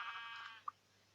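A sheep in the Minecraft video game gives a single short, bright bleat, followed by a brief faint click and near silence.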